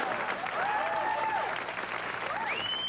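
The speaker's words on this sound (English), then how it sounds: "Kind of a surprise applause there" Studio audience at a late-night talk show applauds a stand-up comedian, a moderate wash of clapping heard from a distance that runs steadily throughout.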